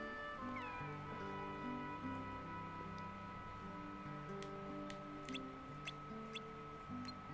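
Cartoonish cat meows from Kingdom Hearts 2 repeat over steady game background music, several short high calls with sparkly chime accents and no speech.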